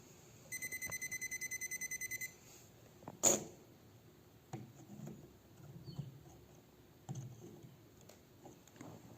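Electrical outlet tester giving a rapid run of about a dozen short, regular beeps at a dead household outlet, then a sharp click and faint handling noises in a quiet room.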